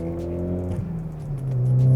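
A 2013-2018 Ford Focus ST with an ACCELATEC 3-inch stainless steel cat-back exhaust rumbles and revs, the engine tone climbing and growing louder toward the end.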